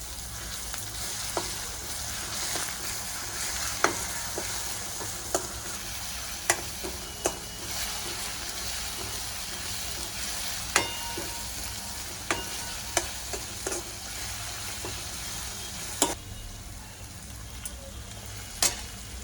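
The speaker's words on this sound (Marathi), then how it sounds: "पाच सहा लसणाच्या पाकळ्या पाच सहा मिरच्या जाडसर ठेसून घेतले ते मी तेलात टाकू परतून घेते" Coarsely crushed garlic cloves and green chillies frying in oil for pithla, a steady close crackling sizzle punctuated by sharp pops and spoon clicks throughout, with no voices.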